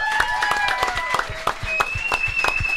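Applause from a bar audience at Johnny's, a steady stream of hand claps with crowd noise, moderately loud.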